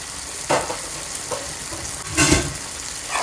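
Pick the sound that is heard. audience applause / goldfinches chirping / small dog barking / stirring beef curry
stirring beef curry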